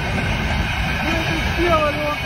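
A train rumbles past close by, running over an iPhone 6 on the track: a steady, loud, low roar with a hissing metallic edge and a brief squeal near the end.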